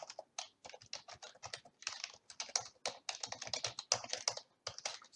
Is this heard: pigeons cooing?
no